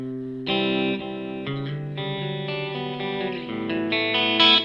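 Electric guitar played through a delay pedal, sustained chords ringing with repeating echoes that overlap and build, moderately loud and alone with no talk.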